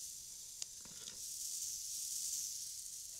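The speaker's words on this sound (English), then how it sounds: "I find generally a waffle of this size takes about 3 minutes to cook." Waffle batter cooks in a waffle iron, giving a steady soft sizzle and hiss with a couple of faint clicks early on, quiet and close.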